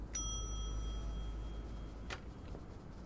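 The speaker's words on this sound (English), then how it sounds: "I'll use the bell." A single bright ring of a hotel front desk bell in The Wolf Among Us, a clean metallic ding that hangs and slowly fades over quiet room tone, followed by a soft brief rustle.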